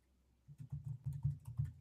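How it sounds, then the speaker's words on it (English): Typing on a computer keyboard during a live podcast show, a quick run of soft, close key clicks that start after a short pause and continue in an uneven rhythm, with no talk over them. "You're typing."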